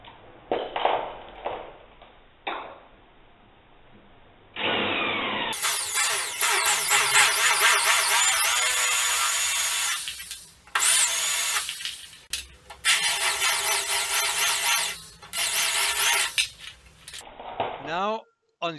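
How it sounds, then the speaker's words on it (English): A narrow drill bit bores into a steel sliding door, giving harsh, grinding bursts of drilling that stop and restart several times, with quieter handling noises in between. "Start with a narrow drill bit."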